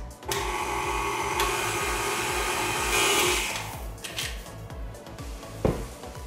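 An electric mixer runs steadily through dough and flour, a close continuous motor whine with a rhythmic low churning beneath, briefly louder near the middle and ending with a sharp knock.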